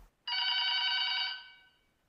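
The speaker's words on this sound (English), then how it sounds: "I'm sitting at home one day, and the phone rings" A telephone bell rings in one sustained burst of about a second, loud and close, then fades out with no one speaking.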